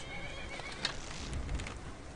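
Faint neighing and hoofbeats from a horse in the video game Skyrim come through a busy, hissing game soundscape, with a brief sharp click partway through.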